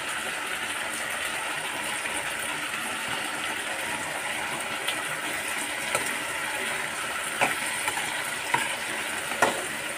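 Tomatoes and chilies lightly frying in a pan, a steady soft sizzle with occasional stirring clicks and scrapes near the end, close and moderately quiet.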